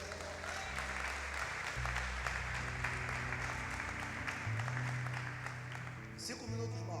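A church congregation applauds steadily for several seconds as a dense, even patter of clapping. Organ or keyboard notes sustain underneath the applause.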